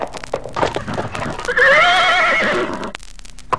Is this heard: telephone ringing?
no